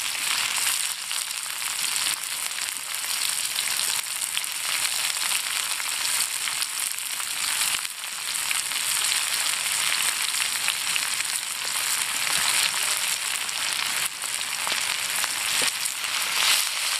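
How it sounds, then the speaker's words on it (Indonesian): Garlic, shallots, tomato and chili frying in hot oil, a steady dense sizzle that crackles evenly from start to finish, close and loud with no voices over it. "Nah, bumbu bawang kita goreng beserta tomat dan cabai."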